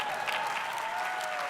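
A Harvard commencement audience claps in sustained, dense applause, a steady broad wash of many hands filling a large outdoor ceremony space.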